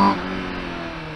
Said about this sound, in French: Je trouve qu'Honda a vraiment beaucoup travaillé sur son échappement. Dès que la vanne s'ouvre, dès qu'on arrive aux alentours de 70 km/h, écoutez-moi ça.